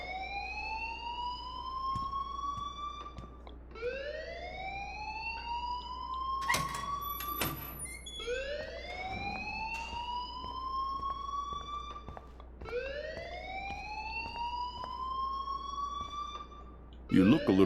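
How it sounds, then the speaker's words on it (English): Electronic school alarm in the game Life is Strange, a repeating rising siren-like wail that sweeps upward about every three seconds, loud and steady, with faint speech in the background. "please turn off that alarm since that's your job."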